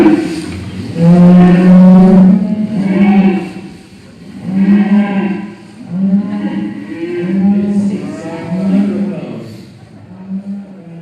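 Cows low repeatedly on a farm, a series of deep, drawn-out moos in uneven bursts over about eleven seconds, close and fairly loud.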